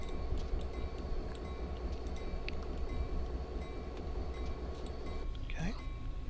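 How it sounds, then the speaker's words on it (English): A metro train approaches in the Railworks train simulator, heard as a steady, fairly quiet rail rumble with faint clinks and a rising whine that swells toward the end. "There's another metro train heading our way."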